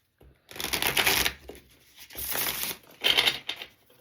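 A stiff deck of playing cards is shuffled in three bursts of fast riffling, loud and close, with short pauses between them.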